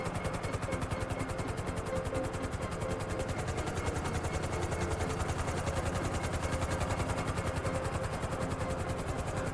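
Helicopter engine in GTA 5 Online, a loud continuous rotor thump with rapid regular beating over a low engine drone, steady throughout.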